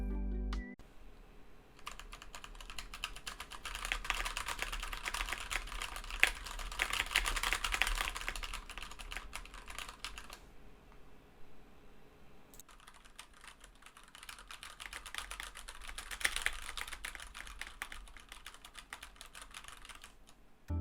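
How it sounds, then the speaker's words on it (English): A clicky keyboard with brown switches is typed on in two long runs of rapid, dense key clatter, close and steady, separated by a brief pause. "how will be the noise of a clicky keyboard with brown switches"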